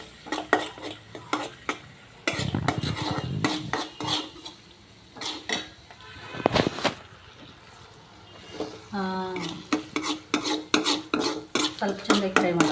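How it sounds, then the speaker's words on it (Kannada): Fried rice with Schezwan chutney is stir-fried in a pan, with a metal spatula scraping and clanking against the pan over a steady sizzle, close and lively, in repeated bursts. "ಇದನ್ನು ಸ್ವಲ್ಪ ಫ್ರೈ ಮಾಡಬೇಕು."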